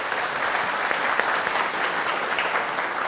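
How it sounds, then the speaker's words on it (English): A conference panel audience applauds its speakers with dense, continuous clapping that holds at a steady loud level throughout, with no one speaking over it. "let's have a round of applause for our speakers."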